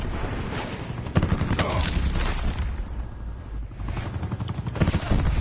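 An enemy attack helicopter passing overhead in a video game, a continuous rumbling rotor drone mixed with bursts of distant gunfire and booms, moderately loud throughout.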